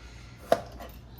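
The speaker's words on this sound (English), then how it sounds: "I'm just cutting the imperfections out and" A single sharp knife chop through a piece of garden produce, trimmed of imperfections, on a kitchen board; one crisp close hit amid quiet room tone.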